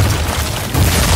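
A share-attack explosion in an anime battle video game, Kira Yoshikage's bomb ability, bursts as a loud, low, rumbling boom that swells again toward the end over continuous game noise.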